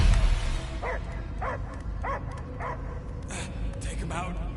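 A dog in the Marvel's Guardians of the Galaxy video game barks in a rapid series of five or six yelps over a dense, noisy game soundscape, with voices speaking partway through.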